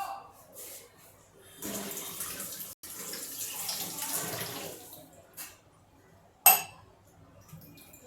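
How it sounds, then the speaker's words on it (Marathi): Cold water from a clay pot is poured into a glass while making panha, a soft gurgling splash running for a few seconds in a quiet kitchen, followed by a brief clink. "ग्लासमध्ये पाणी घालते आता"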